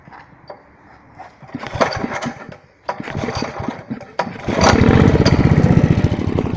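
A Staub 7000 petrol tiller being started by its front pull cord: a few sharp pull-cord rattles and sputters, then the engine catches and settles into a loud, steady close running drone.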